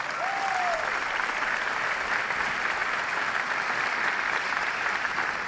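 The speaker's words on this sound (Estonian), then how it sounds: "Aplaus neile!" Sustained, dense applause from an audience at a school's 105th anniversary celebration honoring teachers, filling the whole stretch evenly and loudly with steady clapping.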